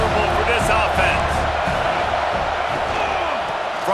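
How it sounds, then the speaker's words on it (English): A dense stadium crowd in College Football 26, Indiana Hoosiers versus Utah Utes, roars loud and sustained with scattered yells, the noise easing slightly toward the end. "This crowd trying to make life miserable for this offense."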